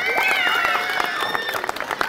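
An audience at an elementary school playground inauguration claps steadily, the scattered applause sitting under someone speaking loudly over a microphone.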